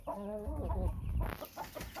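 A Thai fighting rooster of Choeng crossed with Koi breeding gives a close, fairly loud series of clucks and a short crowing call, alone with no talk.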